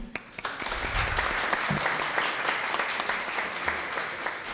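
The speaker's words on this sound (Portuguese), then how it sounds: "eu gostaria de pedir uma salva de palmas para a deputada" Audience applause for a deputy at a solemn session marking a city's 50th anniversary, a dense sustained wash of clapping filling the room at steady loudness, with a few brief voices underneath.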